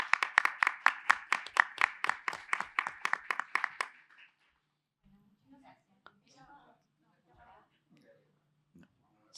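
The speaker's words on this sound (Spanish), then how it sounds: "invitar a Sandra Sandrini, Bravo. un aplauso." Brief rhythmic clapping from a small audience at a talk on Argentine film studios, about a dozen even claps lasting four seconds, then near silence with faint murmurs and soft rustling.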